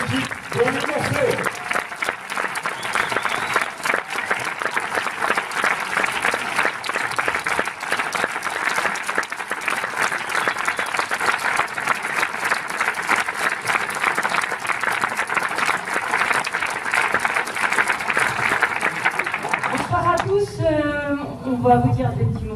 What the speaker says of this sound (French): Un tonnerre d'applaudissements s'il vous plaît pour l'équipe pour le morceau